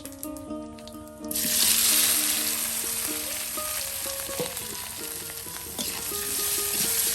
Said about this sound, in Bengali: আলুগুলো কিন্তু এই যে তেলে সুন্দর করে একদম ভেজে নেওয়া হচ্ছে